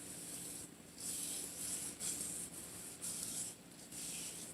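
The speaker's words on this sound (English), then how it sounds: "I put some of the charcoal exfoliator in, and I'm just going to spread it around my hand" Charcoal exfoliator is spread and rubbed over skin by hand, making soft, hissing strokes that come in repeated bursts of roughly half a second to a second, close and quiet with no talk.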